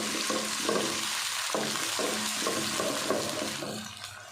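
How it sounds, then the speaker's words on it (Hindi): Ginger and garlic paste fries in a pot over onions turning golden, a steady close sizzle with stirring scrapes in repeated bursts throughout. "अदरक लहसुन को 2 मिनट हमने भून लिया"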